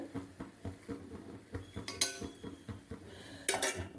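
Rice batter for a Kerala kalathappam being mixed quickly in a vessel: rapid rhythmic scraping and knocking of a spoon against the pot, with a couple of sharper clinks, close and fairly quiet.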